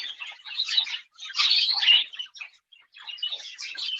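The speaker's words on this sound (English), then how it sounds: "My bird room, or our bird room, is always noisy" Pet birds in an indoor bird room chirp and tweet busily, overlapping bursts of high twittering that pause briefly and resume, with no talk.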